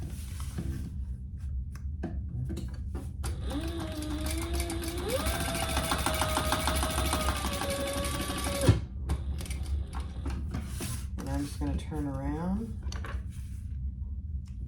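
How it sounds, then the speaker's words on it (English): Sewing machine stitching down a piece of a fabric wristlet: a continuous mechanical whir with rapid needle clatter running steadily for several seconds, then stopping, with handling noises and faint background sounds around it. "we're going to stitch down that piece"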